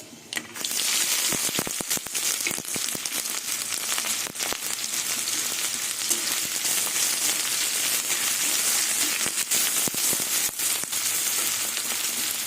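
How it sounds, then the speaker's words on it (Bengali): Chopped onions with dried chillies and five-spice hitting hot oil for aloo posto, a dense, loud, continuous sizzle with crackling pops throughout, close and without any talk. "এবার দুটো শুকনো লঙ্কা আর পাঁচ ফোড়ন দিয়ে দেবো এবার কুচনো পেঁয়াজ দিয়ে দেবো"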